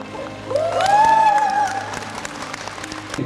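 Applause bursts out around a sergeant standing on a prosthetic right leg before his discharge from a military hospital, a close spread of clapping with faint voices underneath.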